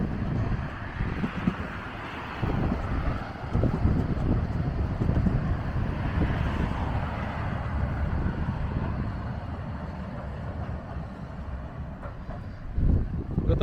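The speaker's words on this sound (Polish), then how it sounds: "Ale wieje. Coś czuję, że nie będzie słychać, co mówimy." Gusty wind buffets the microphone outdoors at a tram roundabout, a steady low rumble swelling and easing over several seconds, with faint voices talking briefly.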